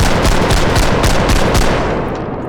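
A machine gun in the Bodycam video game lets off a loud, close, continuous burst of rapid shots that runs steadily for about two seconds before cutting off.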